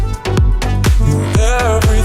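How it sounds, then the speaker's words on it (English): A house music track thumps with strong, evenly spaced kick drums and a sustained synth and vocal layer, loud and close for a couple of seconds. "And one house track that's going to sound like this."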